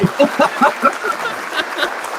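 Audience applause at a televised political debate, a burst of clapping from a studio crowd that tapers off over a couple of seconds.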